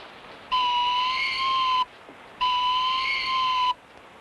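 Two long, steady whistle blasts, each lasting over a second with a short gap between them, blown to train a hawk in an American Western frontier setting; clear and fairly close, with no voices.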